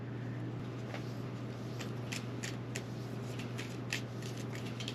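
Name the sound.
shuffling a deck of cards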